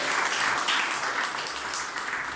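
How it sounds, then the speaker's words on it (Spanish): Church congregation giving a round of applause during a sermon, steady close clapping that holds for a couple of seconds at moderate level. "Le podemos dar una ofrenda de palmas al Rey de Reyes, al Señor de Señores"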